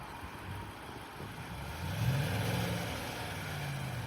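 2023 Nissan Titan pulling forward in two-wheel drive with its wheels slipping, the engine rising in a low, muffled rev midway and then holding steady at a distance.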